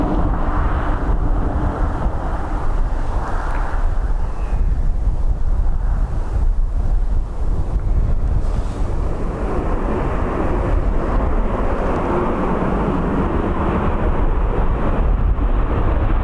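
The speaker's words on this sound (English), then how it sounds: "Heavy reverse noise from Ryanair" Ryanair airliner landing at Dublin Airport on a windy day, with a loud, sustained broadband roar of engine reverse thrust that holds steady throughout, mixed with gusty wind buffeting the microphone.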